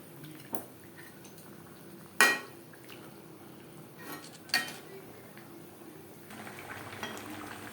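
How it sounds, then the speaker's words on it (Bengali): A spoon stirs chicken with onion and tomato in a pan, giving sparse, quiet metallic scrapes and a few louder clinks against the pan over a soft, low background sizzle. "পেঁয়াজ টমেটোর সাথে চিকেন বেশ ভালো করে মিক্স করে দেব"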